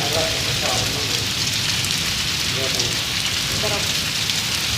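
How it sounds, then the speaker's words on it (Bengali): Steady, dense rain hiss in Pakistan with drops pattering on a surface, with faint, indistinct voices briefly surfacing beneath it. "তো বন্ধুরা বৃষ্টি কেমন লাগছে"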